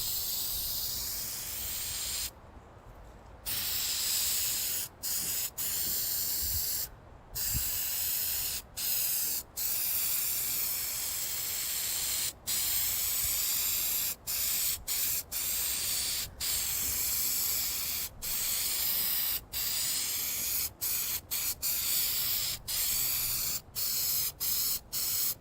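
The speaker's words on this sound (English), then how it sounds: "let's get a little rust converter on here" Rust converter sprayed onto a 1964 Ford Thunderbird bumper in a shop: a long series of short aerosol hisses, each burst cut off by brief pauses in quick, irregular rhythm, close and steady throughout.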